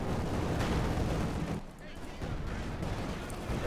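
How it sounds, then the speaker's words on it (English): Light tank and field gun firing in the video game Company of Heroes 2, a dense stream of booming cannon shots and battle noise running continuously, loud and close, with a commentator talking over it. "Light tank firing away there."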